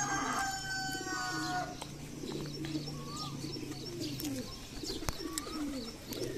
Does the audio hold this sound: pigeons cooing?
yes